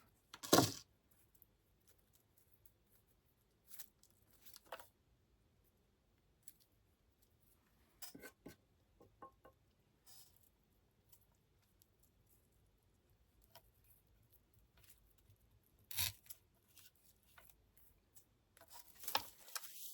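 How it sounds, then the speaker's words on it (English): Scissors or clippers snip a stem from a bush outdoors while gathering material for a DIY fall candlestick, a few sharp, isolated cuts and rustles spaced apart against near silence. "this one doesn't want to come off, so we're just going to cut it off"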